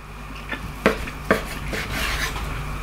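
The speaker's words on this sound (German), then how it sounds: "jetzt schneiden wir ein paar schöne, dünne Tranchen runter" Knife strokes through thin slices of grilled Angus entrecote steak, a few soft scraping cuts and light board taps, close and fairly quiet, with no talking.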